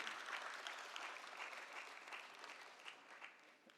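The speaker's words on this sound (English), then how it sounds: "May I have a round of applause, please?" Audience applause at a stock exchange listing ceremony for Women's Next Loungeries Limited, a steady, dense wash of many hands clapping that carries on throughout and fades slightly toward the end.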